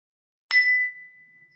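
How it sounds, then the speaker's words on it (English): A meditation bell chime at the close of a guided mindfulness session: one clear, close strike that rings out as a pure, sustained tone and fades slowly, with no talk over it. "Well, thank you for that bell chime, Summer."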